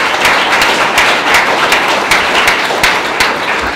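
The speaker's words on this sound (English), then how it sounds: "So big round of applause to the government that's opened up for review." An audience at an environmental campaign town hall in Thunder Bay, Ontario gives a round of applause: close, steady clapping from many hands with a few sharper individual claps, lasting several seconds without speech.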